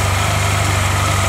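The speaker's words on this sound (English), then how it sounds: "notice my bike is running with the side stand down" A 2009 Honda Silverwing 600 scooter fitted with a LeoVince 8552 slip-on exhaust idles steadily up close, a low pulsing engine throb with a fast even rhythm, alone with no talk.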